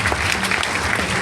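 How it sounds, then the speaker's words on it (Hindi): A classroom group claps together in a dense burst of applause, steady and close throughout. "तालियां बजाएं।"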